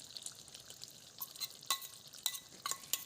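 Mutton pieces frying in freshly added masala paste, with soft sizzling and intermittent scraping stirs of a spatula, a few sharper clinks, quiet and close.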